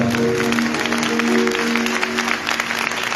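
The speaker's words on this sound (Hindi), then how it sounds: "जोरदार ताली कर दो।" A church congregation applauds loudly and continuously, a close, dense patter of clapping with a sustained musical tone running underneath.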